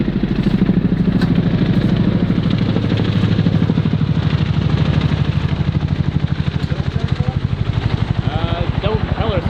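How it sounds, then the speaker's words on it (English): A helicopter's rhythmic rotor thumping pulses steadily and fairly loud, while people talk over it. "Oh, we got a helicopter out there"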